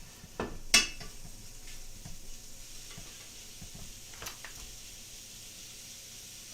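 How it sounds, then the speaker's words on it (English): Soft sizzling from a pan beneath a few sharp clinks and scrapes of utensils against cookware, close by and fairly quiet. "I hear sizzle."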